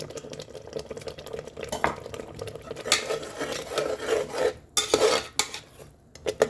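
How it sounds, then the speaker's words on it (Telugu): Curry leaves and green chillies are stirred and fried in a pan for goat head curry, giving an uneven run of scraping, rasping spatula strokes and soft sizzle that swell in short bursts. "పచ్చి వాసన పోయే వరకు బాగా ఫ్రై కానిమ్మా"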